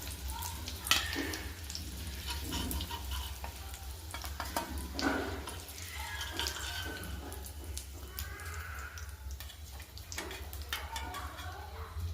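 Eggs frying in oil in a pan for a tomato egg curry, giving a steady sizzle with scattered crackles and scraping stirs, fairly faint over a constant low hum throughout.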